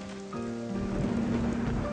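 Steady rain falls in cold drops, a dense, continuous patter that swells slightly after the start and holds evenly, with no voices.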